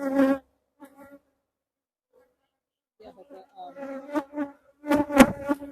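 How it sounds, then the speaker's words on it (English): Honeybees buzzing in close bursts around an open hive during an October inspection, the buzzing rising and falling with quiet gaps between. "I'm blowing on the bees"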